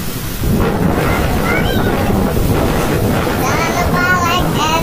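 Heavy rain pours over an open rice field as a loud, steady wash of noise, with a low thunder rumble underneath and a voice briefly heard through it.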